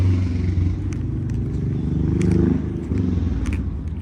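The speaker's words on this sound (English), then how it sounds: "you probably can't hear it because of that motorcycle." A motorcycle rumbles nearby outdoors, its low engine drone swelling and fading as it passes, loud and steady with faint clatter above.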